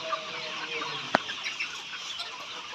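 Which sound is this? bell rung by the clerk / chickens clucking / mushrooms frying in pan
chickens clucking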